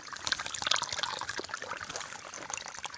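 Irrigation water trickles from pipe taps into a maize field, a faint, quiet, continuous splashing and dribbling with no voices.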